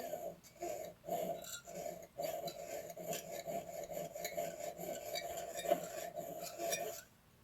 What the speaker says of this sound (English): you're just rubbing the blade against the edge to shave a little bit of metal